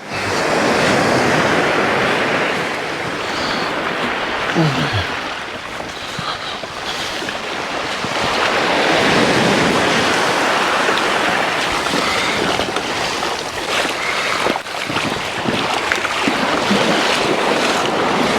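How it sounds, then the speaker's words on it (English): Sea waves surging onto a shore on the Isle of Wight, a loud continuous wash of surf with swelling and receding breakers, buffeted by wind noise across the microphone. "The trouble is these waves are coming in."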